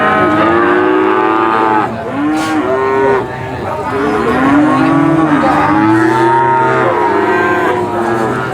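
Cattle at the Purwantoro cattle market in Wonogiri, Central Java, low repeatedly with several overlapping moos, some near and loud, others farther off, over a steady market din.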